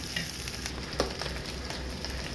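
Fried rice being stirred in a pan over a medium flame, a steady close sizzle running throughout with soft scraping strokes and one sharper clink near the middle.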